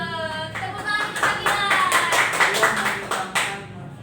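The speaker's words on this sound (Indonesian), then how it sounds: "Tepuk tangan kita" Schoolchildren in a fifth-grade Indonesian language class clap together in a short, lively burst of rhythmic applause, with voices mixed in among the claps.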